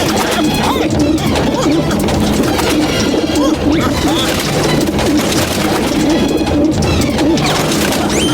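Cartoon pigeons coo repeatedly in a busy comic scene, their warbling calls layered over music and voices, loud and close throughout.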